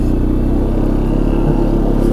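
A 2016 Arctic Cat XC 450 4x4 freewheels through snow, its engine a loud, steady, close-up drone with a low rumbling clatter and no talk.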